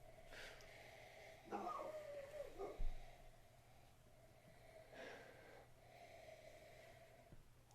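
Several sharp nasal sniffs up close at a glass of stout beer, separated by quiet breathing and pauses.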